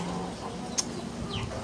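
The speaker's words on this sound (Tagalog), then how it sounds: "Native chicken for dinner." A native chicken, meant for pinikpikan, gives a soft cluck or two at close range over a steady background hum, with one brief sharp click partway through.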